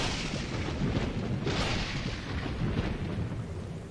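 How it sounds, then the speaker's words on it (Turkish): A thunderstorm in the video game Dawn of Man rolls in as a dense, rumbling roar of thunder and heavy storm noise, loud and continuous, with a swelling crack around the middle and no voices. "Ve fırtına geliyor."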